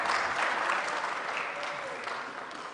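Concert audience at an anthems-of-the-world choir performance giving warm, continuous applause for the choir, a dense wash of many hands clapping that gradually eases in loudness.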